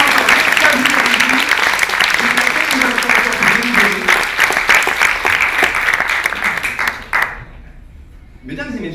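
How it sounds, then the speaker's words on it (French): Audience applause for young contestants at a refuge show in Montpellier: dense, steady clapping from a crowd for about seven seconds, then it cuts off abruptly and a voice begins speaking. "je pense qu'on peut encore les applaudir parce que c'est pas forcément facile de monter sur scène"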